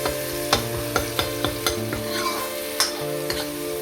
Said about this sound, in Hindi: तो मैंने कहा कि चलो मैं दाल फ्राई कर देती हूँ।